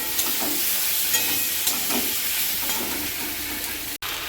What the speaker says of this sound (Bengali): এটা দিয়ে ভালো করে কষে নেব